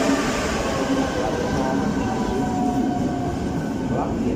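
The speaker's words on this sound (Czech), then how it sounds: "Vlak je připraven k odjezdu." Passenger train standing at a Czech railway station platform, a steady loud rumble of idling rail cars with faint squeals and a broadband station hum filling the whole clip, no voices.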